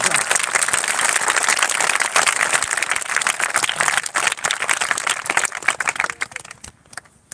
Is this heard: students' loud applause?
yes